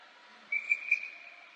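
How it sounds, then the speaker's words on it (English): A referee's whistle at a youth peewee ice hockey game gives three quick shrill blasts, moderately close over faint rink ambience. "Whistle."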